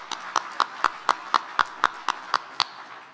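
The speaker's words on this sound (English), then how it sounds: "Let's have a round of applause for all of that." Evenly spaced single claps, about eleven crisp strikes at a steady rhythm, close and fairly loud, rather than a full crowd ovation.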